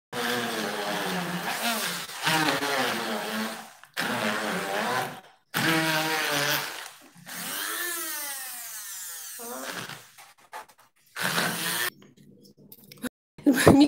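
An overworked kitchen blender whines loudly in a home kitchen in bursts that cut off and restart, with a strained, wavering motor pitch as it falters near the end.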